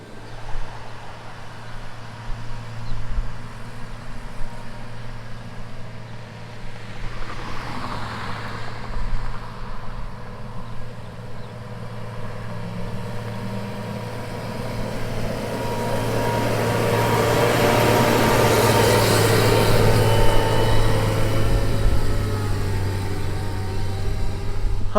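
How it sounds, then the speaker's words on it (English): An agricultural crop sprayer's engine runs steadily with a low rumbling drone. A broad hiss builds and grows louder in the second half. "Sprayer sounds mean."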